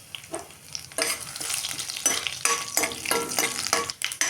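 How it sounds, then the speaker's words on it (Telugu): Hot oil crackles and sizzles as mustard seeds, cumin, urad dal and crushed shallots fry for tempering, with bursts of popping and stirring scrapes, close up and without talk. "ఇప్పుడు తాలింపు గింజలన్నీ బాగా వేగిపోయినాయి"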